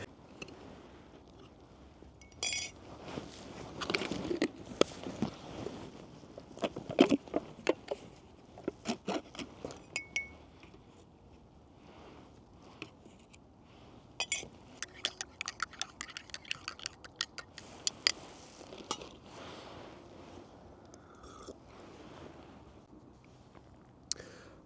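A spoon stirs Colombian instant coffee in a cup outdoors, giving a run of light, irregular clinks and scrapes against the sides, close and fairly quiet, with soft rustling between the taps.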